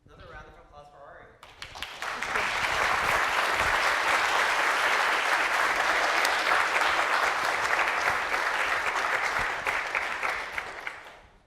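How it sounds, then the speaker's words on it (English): Conference audience in a breakout room bursts into applause after a talk, the clapping rising quickly after a brief voice, holding dense and loud for several seconds, then thinning out. "Another round of applause for Ari."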